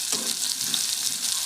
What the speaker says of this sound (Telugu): ఈ ముక్కల్ని మనం వేయించుకున్న పోపులో వేసుకొని ఇలా వేయించుకోవాలి